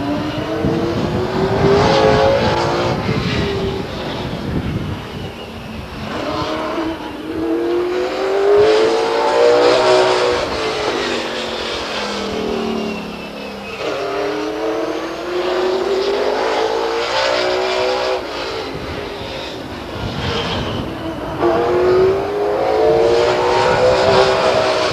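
Race cars lap Stockton 99 Speedway at an LMS and USAC event in 2001, engines rising and falling in repeated passes, loud and continuous with sweeping pitch as cars accelerate by.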